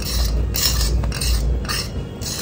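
A utensil stirs pasta seasoning into thickened white sauce in a pan, making close, rhythmic scraping and swishing strokes with faint clinks and no voices.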